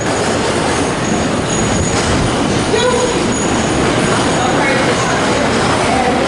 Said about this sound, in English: Once the train passes by, we're going to try to get the other elevator.